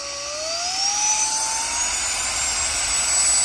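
A Reikiya HV C10 cordless handheld vacuum runs at high power with a loud, steady motor whine that climbs in pitch as it spins up, close and alone with a rushing airflow hiss.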